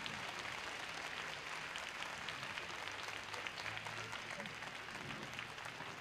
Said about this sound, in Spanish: Pablo y Mármol Picapiedra, adelante los dos, un aplauso muy fuerte.